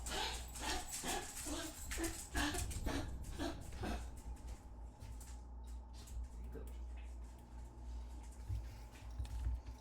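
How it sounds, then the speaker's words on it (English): Dogs named Tilly and Lloyd whimper and yip in a cluster of short puppy-like whines over the first four seconds, mixed with a person's voice, then fade under a steady low background hum. "You gotta make assorted puppy noises?"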